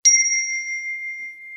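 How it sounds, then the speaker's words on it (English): A single hand bell struck once for a correct answer, a bright metallic ding that rings on with a long steady sustain, loud and close with nothing else heard. "I got my bell for when you're right. All right, so when you get one right, you're going to hear this."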